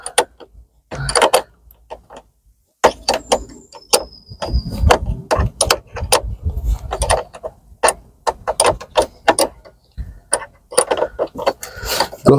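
Clicks and clunks of the negative battery terminal being worked loose and pulled off an Audi A6 3.2 FSI V6 battery, a close run of sharp metallic ticks and knocks with short pauses between them.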